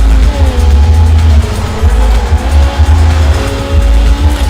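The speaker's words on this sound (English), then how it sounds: "I love the rumble from the engines." Race car engines rumble loudly and continuously close by, deep low pulses with brief dips, alongside a tire-squeal-like tonal whine.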